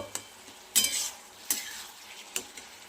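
Red amaranth greens fry with peanuts and potato as a spatula stirs them, four distinct scraping strokes against the pan over a quieter sizzle.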